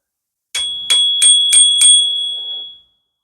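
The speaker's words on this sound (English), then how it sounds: "I do like the bell though." A bicycle bell rings five times in quick succession, bright and close, each metallic ting ringing out and the tone fading slowly after the last strike.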